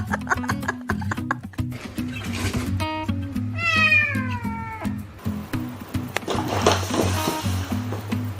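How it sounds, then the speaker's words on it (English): Several cats meow and caterwaul in drawn-out, rising and falling cries, loud and close, with a rhythmic ticking beneath and a rustling, noisy stretch near the end. "I'm gonna roll with some cats because we need some cats"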